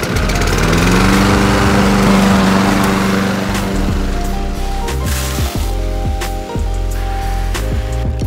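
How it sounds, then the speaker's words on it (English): A lawn mower mows a yard on a hot day, its engine droning loud and close throughout, with the pitch sagging and recovering under load and occasional clicks and knocks from the cutting. "Gotta mow the yard"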